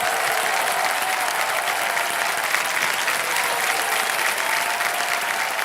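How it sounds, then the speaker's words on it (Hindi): A television game-show audience applauding a contestant who has just received a cheque, steady and loud clapping from a full crowd with no break. "एक चेक आ गया, ताली बज जाए इनके लिए।"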